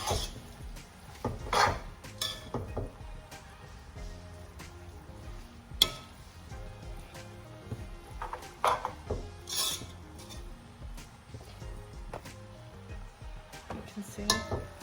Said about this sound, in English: just mixing that so the mixture goes everywhere and the taste is sinking in to the linguine